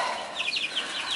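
Young chicks in a brooder house make a brief cluster of soft, high chirps and clucks close by, lasting about a second.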